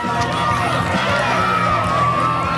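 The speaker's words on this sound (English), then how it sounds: "It is a rowdy crowd." A rowdy crowd fills a wrestling venue with steady, loud cheering and shouting, a continuous wash of voices with no break.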